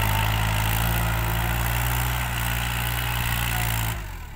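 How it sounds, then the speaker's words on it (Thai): A Kubota L3608 tractor engine idles and runs steadily on wet farmland with a loud, low, continuous drone, dropping off abruptly near the end. "ฝั่งนี้ก็เป็นหน้าที่ของรถไถครับคูบาต้า"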